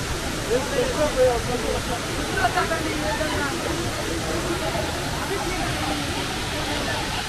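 Lakkam waterfalls in Munnar produce a steady, broad rushing roar of falling water, with faint voices mixed in briefly early on.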